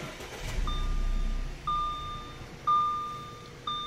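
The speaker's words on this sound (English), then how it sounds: "So we'll start the vehicle." An Audi A4 engine starts with a low rumble that settles to a quiet idle, followed by a series of evenly spaced electronic chimes from the car.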